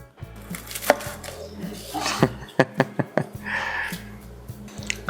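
A knife cuts through a fried boiled tiger skin egg on a board, giving a run of crisp, close taps and chops, several sharp strikes clustered in the middle, over a steady low background hum.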